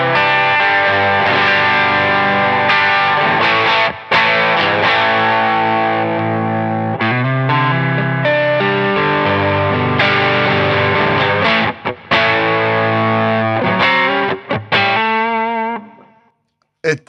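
Heavily overdriven electric guitar through stacked Klon-style and BB overdrive pedals, playing sustained chords and notes with thick, saturated distortion, loud and up close, ending with the ringing dying away.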